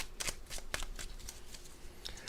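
Tarot cards shuffled by hand in two quick riffling bursts, close and crisp against a quiet room.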